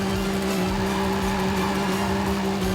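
A car engine in Forza Horizon 5 holds steady at high revs, a continuous loud droning whine with a constant pitch and no talking.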